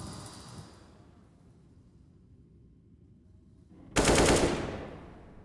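Gunfire in Counter-Strike on the Overpass map during a pro match: a quiet stretch with low rumble, then a sudden loud, bright burst of shots near the end that decays over about a second.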